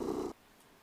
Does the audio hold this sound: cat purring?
yes